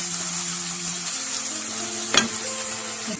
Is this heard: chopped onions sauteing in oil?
yes